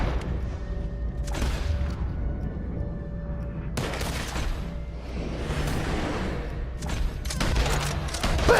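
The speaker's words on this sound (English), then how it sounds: "Ah, stop shooting me!" Red Dead Redemption 2 gunfire: bursts of loud shots and fusillades in a few clusters, with whooshing passes and rumbling booms between volleys.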